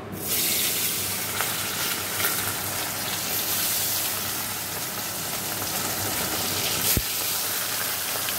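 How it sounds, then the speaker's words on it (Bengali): Bhola fish rubbed with salt and turmeric frying in a wok, a loud continuous sizzle with a brief sharp click near the end and no voices. "তো চলো মাছটা ভাজা হয়ে যায়"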